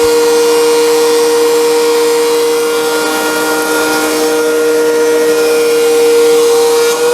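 A wood planer runs steadily with a loud, continuous motor whine and a sustained tonal hum as a board is fed through, holding an even level throughout with no voices.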